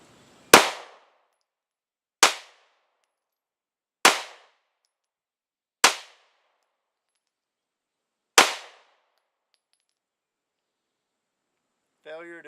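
A Glock 19 Gen 3 pistol fires five sharp, loud single shots spaced about two seconds apart, each with a quick decay, followed by a brief metallic rattle at the end.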